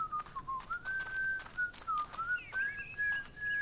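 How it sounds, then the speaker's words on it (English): A video game character whistles a wavering, tune-like melody close behind the player, steady and clear over a soft background hum, with no talking. "he's whistling right behind me"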